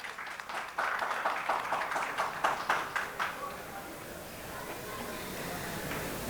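An audience at a seed sector conference session claps for an introduced expert, a burst of a dozen or so distinct, fairly close claps in a quick rhythm that thins out and fades after about three seconds into room murmur.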